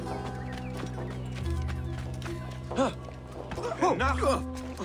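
Hooves of a horse mount in Assassin's Creed Origins clip-clop in a steady rhythm, punctuated by a couple of whinnies, while someone talks over them.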